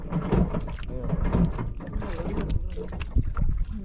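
A boat engine runs on open water under gusty wind, a steady low rumble beneath several people talking loudly nearby.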